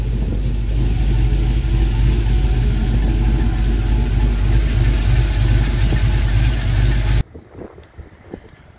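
An LS V8 swapped into an International Scout Traveler restomod runs loud and close with a deep, steady, throbbing rumble for about seven seconds, then cuts off abruptly, leaving faint background sounds.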